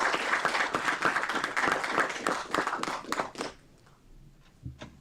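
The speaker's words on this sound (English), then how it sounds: "Let's give Father David a round of applause" An audience gives a round of applause at a tribute to Father David in the city of Aurora, dense clapping filling the room for about three and a half seconds before fading into near quiet with a few stray claps.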